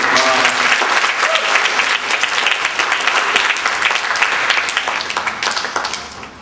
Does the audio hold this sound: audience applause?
yes